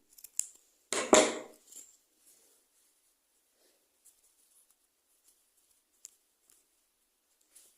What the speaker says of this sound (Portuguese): então, cortar o fio.